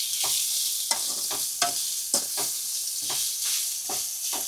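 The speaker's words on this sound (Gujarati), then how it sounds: "હવે થોડી વાર પાછું આપણે આવી રીતના હલાવવાનું" Grated carrots are stirred in hot ghee in a pan, with a steady sizzling hiss throughout and soft, irregular scraping strokes from the spoon recurring about every half second.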